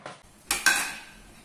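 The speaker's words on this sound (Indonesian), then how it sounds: "Kemudian kita aduk sampai gula arennya ini benar-benar larut" Palm sugar syrup stirred in a pot, giving a couple of brief scraping, clinking utensil strokes against the pot, close and fairly quiet, with no talking.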